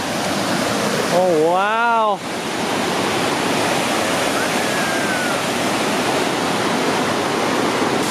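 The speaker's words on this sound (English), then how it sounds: "Very nice waterfall here." A waterfall on the Skerwink Trail in Newfoundland roars close by, loud and steady throughout. A person speaks briefly over the rushing water.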